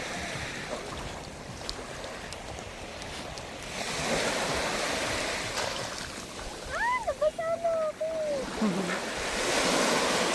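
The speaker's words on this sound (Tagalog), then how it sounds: "sobrang peaceful ng dagat." Sea waves washing in at a beach at Canyon Cove, Batangas: a steady, broad surf roar with wind, and a brief voice rising over it near the end.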